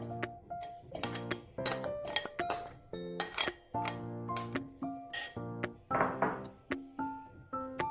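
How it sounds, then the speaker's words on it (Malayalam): Grated coconut tipped into a mixer grinder jar while making cheeppappam, giving a quick run of close clinks, knocks and ringing metallic taps with short pauses between them. "ഒരു മിക്സിയുടെ ജാറിലേക്ക് നമുക്ക് ഈ തേങ്ങ ഇടാം"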